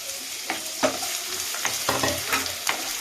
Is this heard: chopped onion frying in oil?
yes